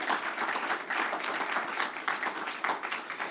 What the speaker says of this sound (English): Also, a big round of applause and thanks to the staff